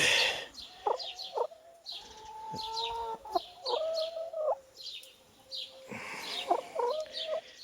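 Hens cluck and croon in short bursts and drawn-out calls, close and clear, with quiet gaps between phrases.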